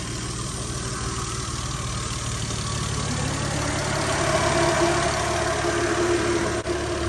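A Nissan S13 with a 2JZ-GE engine idling steadily nearby, a continuous low rumble with an even mechanical hum.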